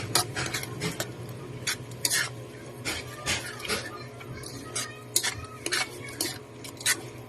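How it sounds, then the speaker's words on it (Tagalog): A spoon stirs bagoong and chili in a cooking pot, making irregular scraping clinks and knocks against the metal, close up and fairly quiet, with no talking. "Ngayon po, hahaluin na natin siya. Hayaan po lang natin siyang makulo para maluto siya."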